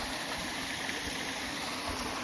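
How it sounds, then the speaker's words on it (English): The waterfall at Devils Canyon, Arkansas, gives off a steady, unbroken rush of falling water, a constant wash of moderate loudness with no voices over it. "there is the waterfall."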